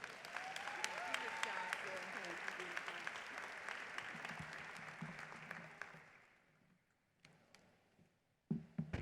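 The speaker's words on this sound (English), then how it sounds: "another round of applause" Audience at a university honors convocation applauds loudly and steadily for a keynote speaker, a dense field of clapping that fades out after about six seconds, followed by a few scattered claps.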